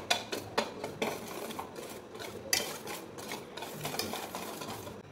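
Garam masala, chilli and coriander powders being mixed in a bowl, a rhythmic series of close scraping and tapping strokes from a utensil, fairly quiet and without talk.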